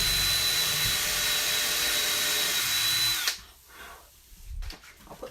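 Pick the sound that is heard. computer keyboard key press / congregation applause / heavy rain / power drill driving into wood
power drill driving into wood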